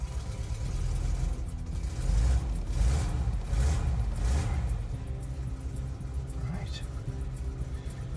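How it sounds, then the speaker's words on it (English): A VW T25 campervan engine runs with a steady low rumble throughout, swelling slightly as if revving, heard from inside the van at a distance from the engine with some background noise. "they're a long way from the engine, so even with the door open, it sounds quite quiet"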